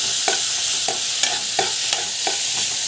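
Noodle masala is sautéed in a pan and stirred repeatedly, each spatula scrape landing in a steady rhythm over a loud, even sizzle.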